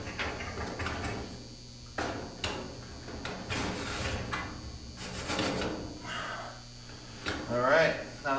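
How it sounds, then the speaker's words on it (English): A metal axle slid through the undercarriage of a garden cart, producing intermittent scraping, sliding and knocking sounds in bursts, close by, with a voice speaking between them. "Let's finish slipping the axle through."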